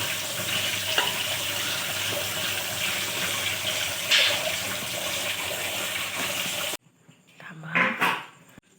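Wild mushrooms are washed under running water, a steady close splashing rush with a few knocks, which stops abruptly before a brief voice speaks.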